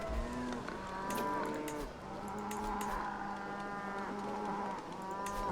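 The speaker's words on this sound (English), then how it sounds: "Alright, these cows are too loud." Several cows moo in Crusader Kings 3, long overlapping lowing calls with steady harmonic tones, loud and close, repeating continuously through the scene with no talk.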